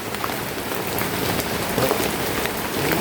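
Steady rain falling outdoors, a dense, even hiss of drops striking surfaces close by, continuous throughout with no talking.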